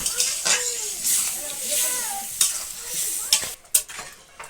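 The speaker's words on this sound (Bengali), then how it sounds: "সামান্য জল দিয়ে মশলাটাকে ভালো করে কষে নিচ্ছে।" Turmeric-and-salt spice paste fries in a pan with a splash of water for a fish curry, giving a steady close sizzle broken by scraping stir strokes, with faint voices in the background.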